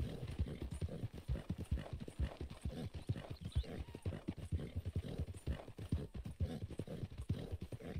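A horse's hooves clip-clop at a steady trot in Red Dead Redemption 2: quick, even, close-up hoofbeats with no other sound over them.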